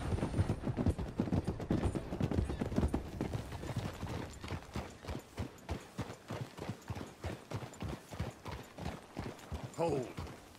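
Horse hooves trotting in the video game Red Dead Redemption 2, a steady rhythmic clip-clop close by throughout, with voices talking over the start and a whinny near the end.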